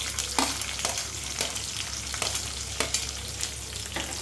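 Cumin, onions, green chillies and curry leaves sizzle loudly in hot oil for an eggplant and drumstick curry. Occasional spatula knocks and stirring scrapes break a steady, close frying hiss.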